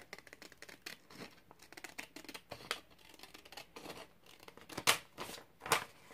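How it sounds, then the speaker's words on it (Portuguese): Scissors snipping through material while shaping the rounded ends of a textured bag piece, giving a series of crisp close cuts with several sharper, louder snips near the end. "Venho aqui com a tesoura."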